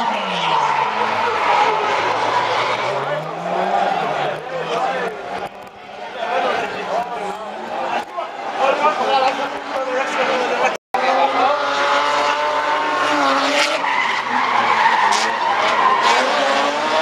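Drift cars skidding at Achna Speedway during a drift show, with continuous loud tyre squeal and revving engines rising and falling as the cars slide through a big corner, under a commentator's steady talk.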